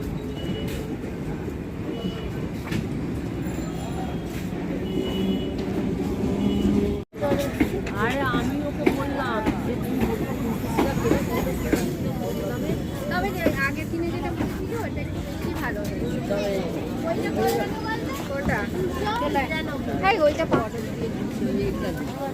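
Steady rumble of a moving train under constant crowd chatter and overlapping voices, busy and close all around.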